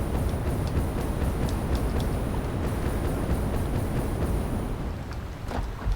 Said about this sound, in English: I love the fact you just hear trains.